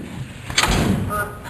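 A 4x4 transmission being loaded into a 6.2 Rampside truck drops into place with a single heavy metallic clunk, close by, followed by a brief low rumble against quiet handling noise.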